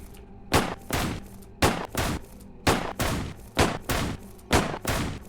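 Rapid shots from a video game weapon ring out in quick pairs, about ten sharp blasts, loud and close, each followed by a short decaying tail, with no voices.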